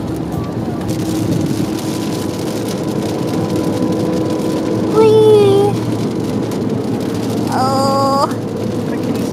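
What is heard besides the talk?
rain falling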